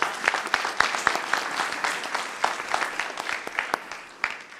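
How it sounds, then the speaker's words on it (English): Honorees at a council meeting get a round of applause, a moderate crowd of clappers whose individual claps stand out sharply in an uneven, lively patter that rises and dips throughout. "let's give them another big round of applause"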